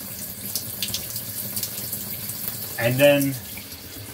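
Water runs from a tap fed by a mini tankless water heater in a steady hiss, with a brief voice and a short gurgling splash partway through.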